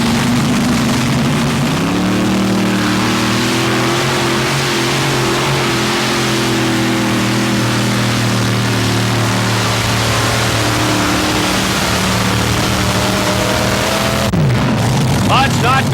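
Modified tractor with five alcohol-burning engines, two cranked up at the front, rolling up to a pulling sled at a 1987 Fort Wayne, Indiana pull: a loud, steady multi-engine drone that holds for the full stretch, then shifts pitch near the end.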